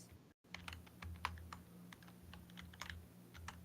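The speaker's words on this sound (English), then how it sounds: "It's my stupid keyboard." Loud computer keyboard clicking picked up closely by a microphone during an online D&D session: a steady patter of sharp, irregular keystrokes with a brief silent gap near the start and no talking.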